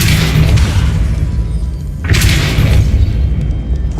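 A Depulso spell is cast in Hogwarts Legacy, landing as a loud, heavy boom with a sharp burst about halfway through, set against a rumbling in-game backdrop.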